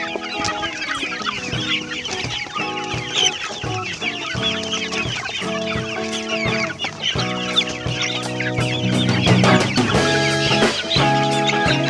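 Many chickens clucking and cackling together at close range at feeding time, a busy overlapping chorus of calls that continues throughout with no talking.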